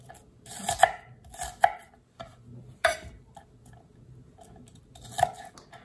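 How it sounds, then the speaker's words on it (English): Sharp knife chops on a cutting board as filling for Argentine empanadas is prepared, a handful of separate crisp strikes spaced irregularly, close and clear with no talk. "So when I'm done chopping,"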